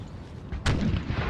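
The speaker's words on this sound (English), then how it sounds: "We see the cannon shots just firing over the fields." Cannon artillery fires across open fields in Empire Total War's American Civil War battle, a sharp distant boom landing midway over a steady low battlefield rumble, with no speech.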